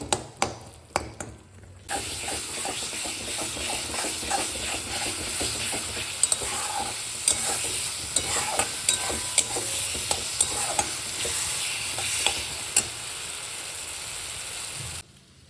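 Masala sautéing in oil in a pan for an egg curry (dim kosha): a steady, close sizzle with repeated clicks and scrapes of a stirring spoon against the pan, starting after a brief quiet moment.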